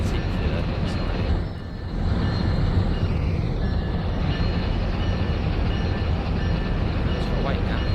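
An ES44AC locomotive hauls a train around Horseshoe Curve, a steady rolling rumble and rail noise that holds throughout, with a brief dip near the start.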